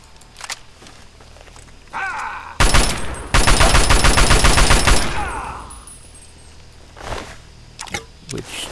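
Assault rifle gunfire in Fallout 3, a loud sustained burst of rapid automatic shots lasting a few seconds, preceded and followed by quieter game sounds and a few scattered sharp bangs.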